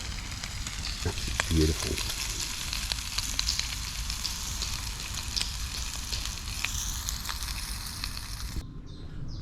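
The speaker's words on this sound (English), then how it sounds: "So I've got my breakfast on cooking. Bacon, lettuce and cheese wraps." Bacon, lettuce and cheese breakfast wraps frying outdoors in Savernake Forest, Wiltshire, a continuous close crackling sizzle with scattered pops, and a short spoken remark partway through before it cuts off near the end.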